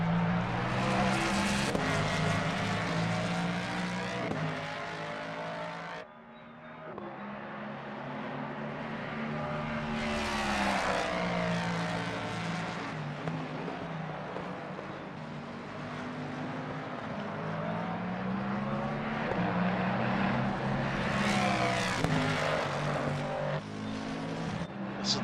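A yellow Mustang GT3 race car at a Caribbean GT3 Championship round at Kyalami, its engine roaring continuously and loudly with rising and falling revs through gear changes, a brief lift near the start, no voices over it.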